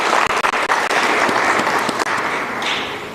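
An audience at a conference event applauds steadily, giving a dense, continuous clapping that stays close and loud throughout, with no talk over it.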